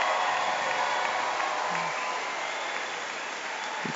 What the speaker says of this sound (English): How about one last round of applause for the Goff graduating class of